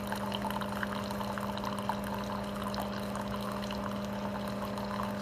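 A Keurig K-Duo coffee maker pours coffee in several thin streams, a steady close trickle over a low machine hum that runs without a break for several seconds.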